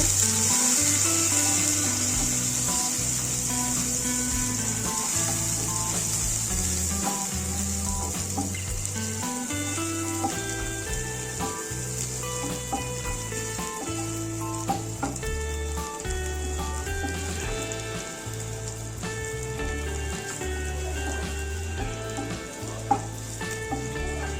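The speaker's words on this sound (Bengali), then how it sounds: "কালো জিরে, পেঁয়াজ কুচি। সব একসঙ্গে ভালোভাবে ভেজে নেব।" Black cumin seeds, dried chilli and chopped onion frying together in a pan, a steady, close sizzle running throughout, with a few clinks of stirring and music playing underneath.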